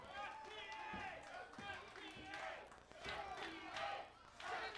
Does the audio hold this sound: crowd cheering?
yes